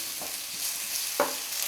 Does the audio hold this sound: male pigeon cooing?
no